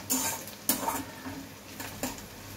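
Ground masala sizzles in hot oil in a pan, stirred with a few sharp scraping strokes against the metal over a steady close crackle, with no voices.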